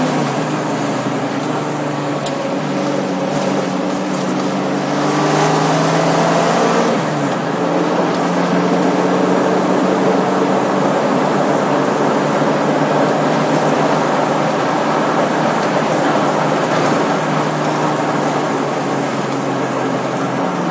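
A restored 1973 Mach 1 Mustang cruises in fourth gear just under 3,000 RPM, its V8 engine droning loud and steady from inside the car with a brief rise in pitch as it pulls.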